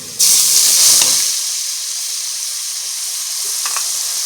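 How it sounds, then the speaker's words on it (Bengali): Onion and garlic paste with spices hits hot oil in a pan with a sudden loud sizzle burst, then settles into a steady, close hiss of frying with faint stirring clicks, no voices. "এখন সুন্দর করে আমি মশলাটা কষিয়ে নেব"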